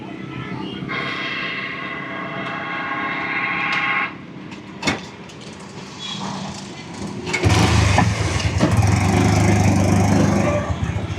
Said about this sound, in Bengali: বাইকের পেছনের চাক্কা কেটে দুটো চাক্কা লাগাই এরকম ছাউনি দিয়ে দিছে